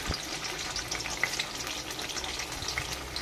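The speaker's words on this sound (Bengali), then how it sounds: "পনিরটাকে কড়া করে ভাজা হবে না, হালকা হালকা ভেজে নিতে হবে" Paneer pieces fry lightly in oil in a pan, a steady soft sizzle with faint crackles running throughout, close and moderate in level, with no voices.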